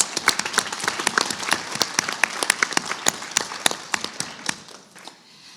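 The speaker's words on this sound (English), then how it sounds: "Give them a round of applause." Applause from an audience at a regional spelling bee in Kentucky and Indiana: dense, steady clapping that carries through most of the clip and then thins out and fades toward the end, with no voices heard.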